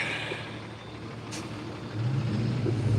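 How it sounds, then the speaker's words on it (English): A liquor truck rolls along a downtown street near Lee University, its engine droning low and steady, growing louder and heavier in the final second, with a brief hiss partway through. "It's a liquor truck."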